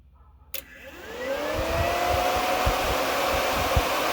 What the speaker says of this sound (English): it kicks our fan on